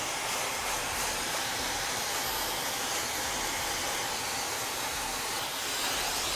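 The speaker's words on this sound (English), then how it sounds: "I'm drying the hair on the position that I want my final outcome." A hair dryer runs in one steady, loud airy roar throughout while hair is dried and shaped with a round brush during a textured mid fade fauxhawk haircut.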